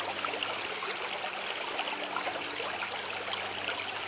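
Water pours steadily into a cup outdoors in winter, a continuous splashing trickle at moderate level with no talking.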